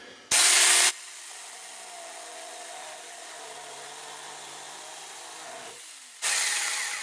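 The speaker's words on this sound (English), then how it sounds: "Now we're going to do a plunge cut on this, and we're going to see how this is going to do." A Saker 4-inch mini chainsaw makes a plunge cut into wood. A loud, harsh burst of motor and chain noise starts the cut, a quieter steady drone follows while the bar works, and a second loud burst comes near the end.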